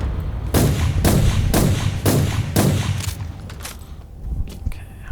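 Weapon fire in the video game Inquisitor Martyr: five heavy, booming shots land at an even rhythm, followed by a few lighter, scattered reports. No one speaks over them.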